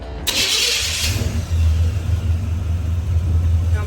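A Chevrolet K10 truck engine cranks over briefly and then catches, settling into a steady, loud low idle rumble that continues to the end, with no talking.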